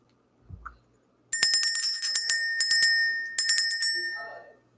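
A small bright bell is rung in a few quick bursts of rapid metallic strikes, loud and close, each burst ringing on briefly before the next, with a faint soft knock just before the ringing starts.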